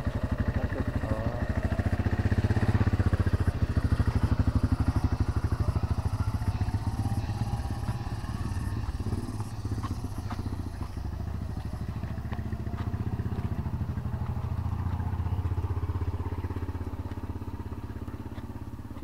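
A motorcycle rides across the Girpasang suspension bridge in Klaten, its mid-pitched engine droning steadily and close by with rattling clatter from the deck, fading slightly toward the end.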